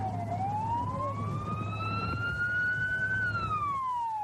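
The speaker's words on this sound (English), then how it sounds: "Sirens echoing through the mountains tonight after this huge pileup in the Sierra." Emergency vehicle sirens wail at the scene of a large highway pileup in the Sierra mountains, one sweeping tone that rises and falls steadily, moderately loud over a constant low rumble.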